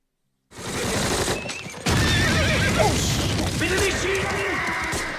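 Horses neigh and whinny repeatedly amid explosions and gunfire in a World War II battle scene from a war TV series. The cries are loud and layered over a dense, continuous roar of combat.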